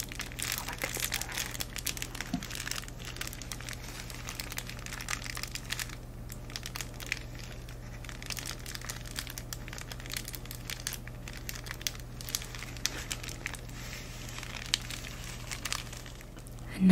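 A small plastic bag is crinkled and handled up close while a drawer is being organized, producing continuous soft crinkling and rustling with scattered sharper crackles and no talking.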